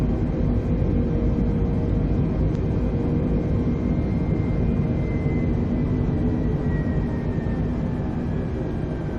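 An airliner in Microsoft Flight Simulator climbs just after takeoff, its engines making a steady, broad, loud roar with a faint rising whine, continuous and unbroken, with no voices.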